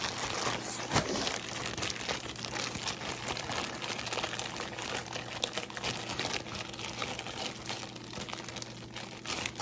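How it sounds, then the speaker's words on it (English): A plastic bag crinkles and rustles steadily as it is rubbed over cooked chicken bones in a kitchen, close and continuous with small crunchy bursts, no talking over it. "you see how I'm just rubbing the bones with the bag?"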